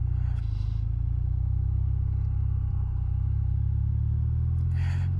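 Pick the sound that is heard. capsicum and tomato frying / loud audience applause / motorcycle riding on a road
motorcycle riding on a road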